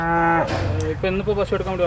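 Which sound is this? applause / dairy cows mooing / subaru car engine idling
dairy cows mooing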